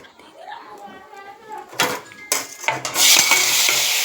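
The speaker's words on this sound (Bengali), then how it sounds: "কালো জিরা সম্বার দিলাম" Nigella seeds crackle in hot oil before spice powder goes in, metal utensil clinks and scrapes rising into a loud bright sizzle; someone talks over the start.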